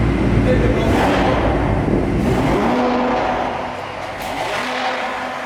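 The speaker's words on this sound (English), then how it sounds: "that guy's car is too fucking loud" A loud car engine revs hard and roars continuously up close, its rumble dipping slightly toward the end, while people talk over it.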